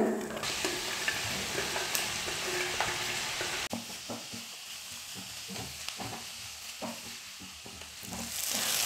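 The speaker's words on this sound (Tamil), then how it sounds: "இப்போ இந்த வெங்காயத்தை கடாயில சேர்த்துடுறேன்." Thinly sliced onions fry in oil in a kadai for an onion samosa filling, giving a steady close sizzle broken by repeated spatula scrapes and taps, with no talking.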